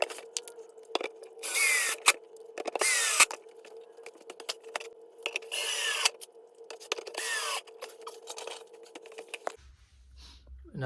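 A battery drill drives screws while a Gersby bookshelf is assembled, whirring in repeated short bursts with wooden knocks and rattles between them, then cutting out abruptly near the end.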